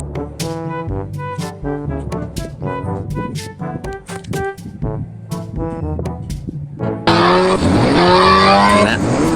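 A car drives in GTA San Andreas with choppy engine revs and brief bursts, ending in a loud, sustained tire screech of skidding wheels near the finish.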